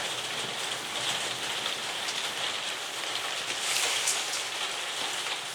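Heavy thunderstorm rain pours in a steady, dense hiss that fills the whole clip without pause, with no voices.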